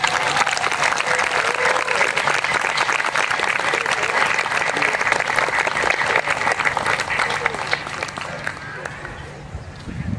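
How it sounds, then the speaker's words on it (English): Audience applause for the city band's concert musicians, a dense, steady clapping that fills the whole stretch and thins slightly toward the end. "Now we can applaud one time."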